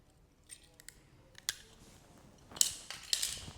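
Scissors snipping thorny flower stems while making a floral arch garland: a few faint, sharp clicks spaced apart, with the loudest snips near the end and a quiet background between them.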